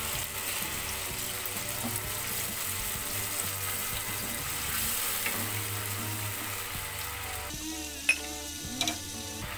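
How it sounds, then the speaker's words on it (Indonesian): Water poured into a pan of risoles vegetable filling with potatoes and carrots, hissing and sizzling steadily up close, with a few sharper clinks and splashes near the end. "Setelah diaduk merata, kita tambahkan air secukupnya."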